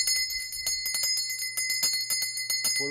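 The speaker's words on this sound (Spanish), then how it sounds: "Porque la campana necesita de ese vacío para poder sonar." A bell rings with bright, sustained metallic tones under a scatter of light tapping and clicking sounds, heard up close at moderate volume.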